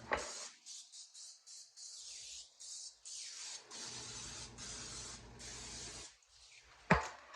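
Several short bursts of cooking spray hiss onto a pan in quick succession, close by, followed by a sharp clank near the end.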